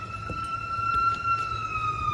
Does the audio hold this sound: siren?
yes